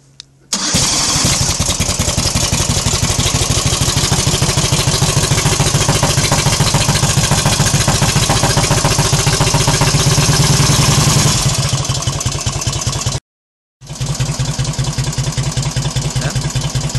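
A 1948 Indian Chief motorcycle fires up via a remote-controlled electric starter, then runs loud and close at a fast, even idle for about ten seconds before it cuts out briefly and catches again.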